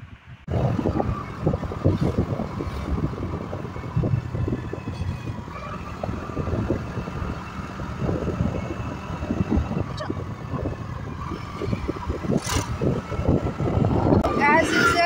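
A motorbike carries a rider and a passenger on a road on a day trip in Andaman, with a steady engine drone and rushing wind buffeting the microphone throughout.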